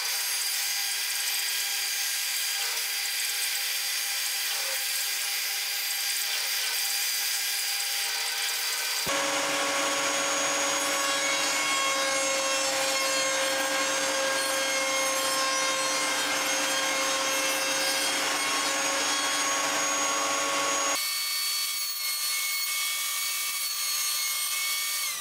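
Pine boards are ripped and milled into strips for kerfed guitar linings, with a close, loud, steady machine whine and cutting rasp that changes pitch in the middle section and then returns.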